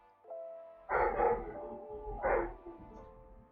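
A dog gives two loud, close barks about a second apart, with a faint steady tone running underneath.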